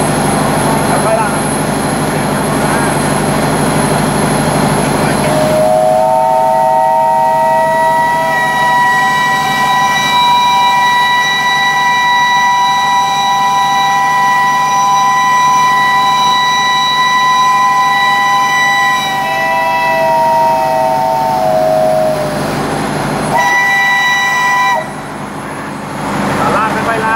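A steam locomotive whistle is pulled and held for about fifteen seconds, a loud sustained tonal blast with rich harmonics that rises in and cuts off over continuous background noise, with a brief second burst near the end.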